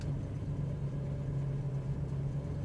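A 1968 Chevrolet Camaro Z28 engine idles steadily, with a smooth, even low rumble and a constant hum, close and without pauses.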